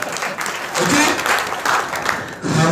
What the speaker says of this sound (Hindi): आपने बहुत तालियां बजी थी।